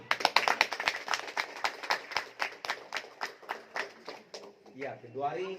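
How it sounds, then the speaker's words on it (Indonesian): Church congregation members clap in a loose rhythmic pattern during a service, sharp hand claps repeating about twice a second and gradually thinning, then a voice takes over at the end. "Tepuk tangan."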